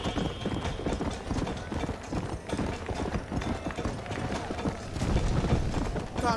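Horse hooves clip-clopping in Red Dead Redemption gameplay, a rapid galloping rhythm with creaking tack close up, running continuously with a faint voice now and then.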